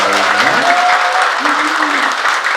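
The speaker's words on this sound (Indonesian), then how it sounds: "Tepuk tangan buat Anda semua" Dense, loud applause from a youth audience at a mosque motivation event in Bandung, continuous clapping filling the room while a voice rises briefly over the crowd.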